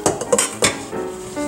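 Quartered red skin potatoes tumble into a standard 3-quart ceramic slow cooker, giving a few close, sharp clunks and clatters against the pot within a second or so.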